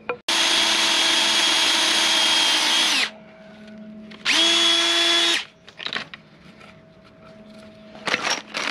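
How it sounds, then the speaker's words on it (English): A power drill whines loudly for about three seconds, stops, then runs again in a shorter burst, followed by quieter clatter and a faint hum. "And you drill a hole in this thing too."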